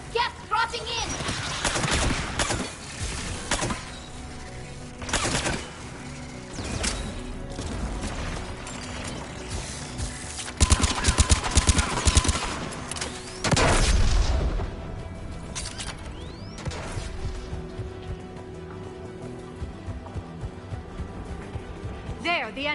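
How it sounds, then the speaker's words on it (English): Anti-aircraft guns fire in the Mass Effect 3 video game, with loud, dense bursts of booming gunfire and rapid volleys that come in waves, surging and easing over a mechanical hum. "There, the anti-aircraft guns."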